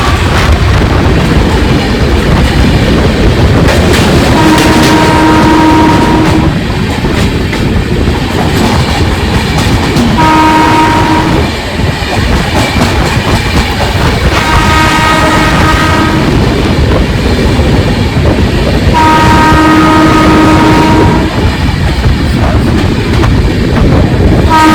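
Gour Express passenger train from Sealdah to Malda Town heard from inside a general class coach: loud constant rumble and rhythmic wheel clatter, with a horn sounding several times in drawn-out blasts.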